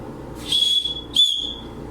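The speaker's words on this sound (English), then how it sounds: "and your whistle." Two sharp, shrill blasts from the small whistle built into a Leatherman Signal multitool, the first about half a second long and the second shorter, both loud and close with no talking.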